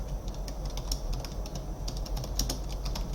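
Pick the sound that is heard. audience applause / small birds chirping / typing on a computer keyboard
typing on a computer keyboard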